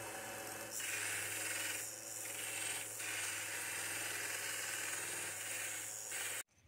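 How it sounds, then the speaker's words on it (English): A belt sander grinds casting flash off the edges of a sand-cast aluminum Mustang Cobra emblem replica, making a steady, close, rasping whine with slight dips in pitch as the part is pressed to the belt. "take it over to the belt sander to sand away any of the flashing on the perimeter"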